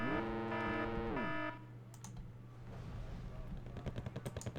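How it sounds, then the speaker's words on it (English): Artillery in Wargame: Red Dragon lands as sharp, distant cracks and thumps, arriving in a rapid volley after a musical tone fades out. "Oh, artillery coming in on our ferret."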